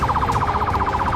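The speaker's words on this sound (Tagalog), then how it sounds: "sinusundan ko siya ng ambulansya" An ambulance siren warbles in a fast, steady yelp as the vehicle follows on the road, loud and continuous over low road and engine rumble.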